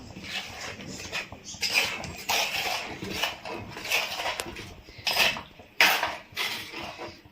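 A spoon scrapes and clinks against a metal pot while stirring elephant foot yam buttermilk curry, in irregular bursts, a busy stirring sound at moderate volume with no talking.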